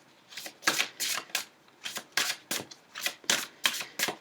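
Playing cards handled and laid out for a reading, about a dozen crisp papery flicks and snaps in an irregular rhythm, close and clear against a quiet background, with no talking.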